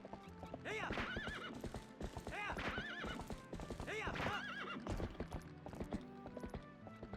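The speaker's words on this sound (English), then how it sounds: "Very, very cool goats." Rapid rhythmic hoofbeats of a galloping horse in The Legend of Zelda: Twilight Princess, with repeated high neighs and whinnies, busy and continuous over several seconds.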